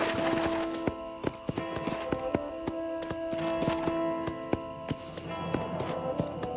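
Horse hooves clop at a steady walking pace in the Western video game Red Dead Redemption, close and distinct taps repeating over a bed of ambient game music.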